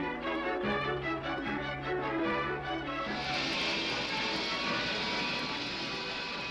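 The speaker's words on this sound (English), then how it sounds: "New planes have been developed that rise vertically and fly at jet speeds." Jet aircraft built to take off and rise vertically, flying with a steady, loud engine roar that swells into a broad rushing blast partway through, heard alone with no voices.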